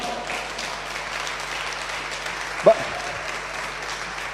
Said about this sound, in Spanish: ¿Cuántos le dan un aplauso?